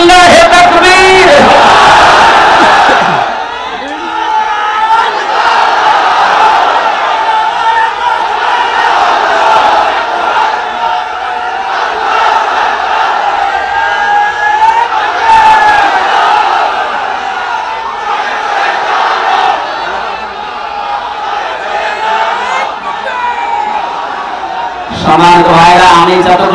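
A large crowd at an open-air Islamic sermon gathering in Bogura loudly chants the takbir in unison, a roaring, sustained shout that fades into a murmuring lull and swells again at the end.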